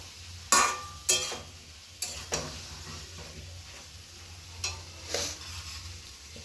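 Bori and mixed vegetable curry with tomato, green chilli and ginger frying in a pan, a spoon scraping and knocking against the pan in scattered strokes over a steady low sizzle, close and moderately quiet with no talking.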